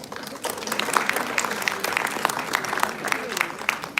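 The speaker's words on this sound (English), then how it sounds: "Let's welcome her with a warm round of applause." Audience at a university panel discussion event claps in a warm round of applause, a dense spread of hand claps sustained at moderate loudness from start to finish.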